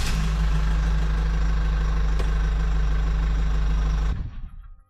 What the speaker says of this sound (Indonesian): Kini terdengar suara mesin mobil di gerbang depan.